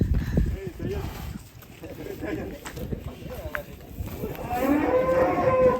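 A huge 'monster' cow at a cattle showing lows in a deep, drawn-out moo toward the end, while people talk nearby throughout.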